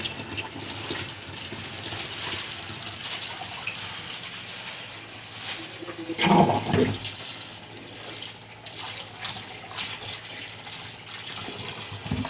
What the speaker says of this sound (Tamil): கறி வாஷ் பண்ணும்போது பார்த்தீங்கன்னா கொஞ்சம் மஞ்சத்தூள் மட்டும்தான் போட்டு வாஷ் பண்ணுவேன்